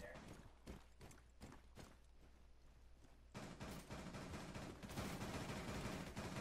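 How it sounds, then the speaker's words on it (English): Rapid gunfire rattles in bursts at windows in Rainbow Six Siege, with sharp cracking shots that start sparse and quiet and then swell into loud, sustained volleys. "they're just gonna keep shooting at those windows"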